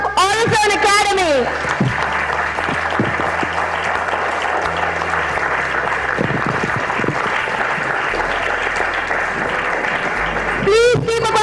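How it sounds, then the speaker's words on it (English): A crowd at a public speaking competition award announcement applauds loudly and continuously, the clapping sustained throughout, with an amplified voice speaking briefly at the start and end. "Please keep up a huge round of applause."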